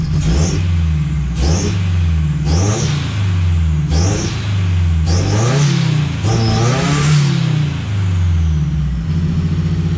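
BMW 318 IS engine revving hard again and again, each burst climbing then falling back as the revs drop, loud and close with no talk.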